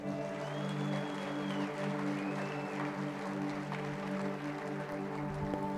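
A church congregation applauds, a fairly soft wash of clapping running beneath steady sustained keyboard chords for several seconds.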